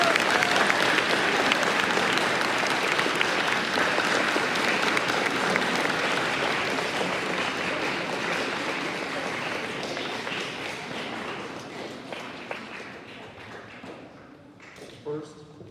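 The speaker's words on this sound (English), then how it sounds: "let's give a round of applause to Mr." Sustained applause from a school audience in a hall, dense clapping that fills the room loudly then slowly thins and fades, with a few scattered claps and thuds as it dies out.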